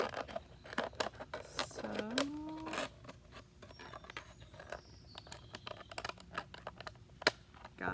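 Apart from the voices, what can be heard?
scissors cutting plastic bottle in half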